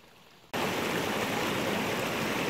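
Steady, full rushing of a waterfall and mountain stream on a Scottish Munro hike, starting abruptly and continuing as a loud, dense, unbroken roar of flowing water.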